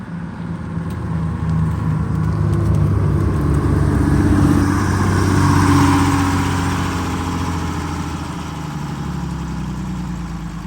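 A struggling bus engine labours up a steep hill, a steady low heavy drone that swells slightly midway and then eases, loud and close throughout.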